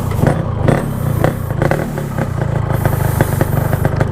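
A motorcycle fitted with an aftermarket exhaust revs repeatedly up close, loud, throaty bursts rising and falling with mechanical clatter.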